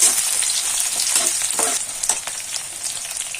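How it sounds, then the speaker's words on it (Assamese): Chopped onions sizzle steadily in hot oil in a kadai, with close stirring scrapes breaking through the continuous frying hiss. "পিয়াজখিনি মই অলপ ভাজি ল'ম"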